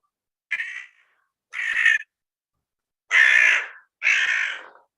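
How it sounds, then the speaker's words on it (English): Crows give four harsh caws in a slow, spaced sequence, loud and close, with silence between calls and no talking, during a live drama performance. "The crows. They love to hear about hangings."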